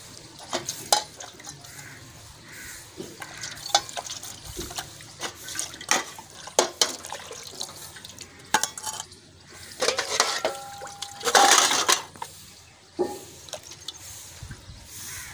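Soaped dishes are rinsed with water in a village kitchen, bursts of running and splashing water alternating with clinks and knocks of utensils in an uneven rhythm, fairly close.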